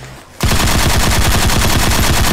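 Rapid automatic gunfire sound effect bursting in suddenly after a short quiet moment, a dense, loud, steady rattle of shots continuing without pause.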